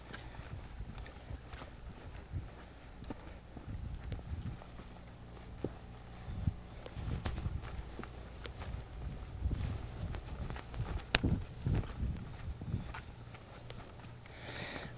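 A horse's hooves clip-clop at a steady walk as it is ridden past other horses outdoors, the footfalls fairly faint and uneven amid low background rumble.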